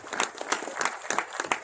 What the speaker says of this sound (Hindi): मैं चाहूंगा एक बार जोरदार तालियां भाई साहब के लिए